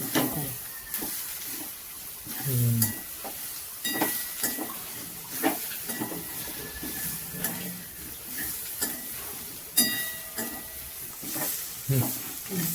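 A spatula stirs Maharashtrian-style bitter gourd (karela) bhaji in a pan, giving repeated scraping and clacking strokes over a soft sizzle, fairly close and steady throughout.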